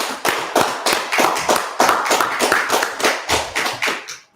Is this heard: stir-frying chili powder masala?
no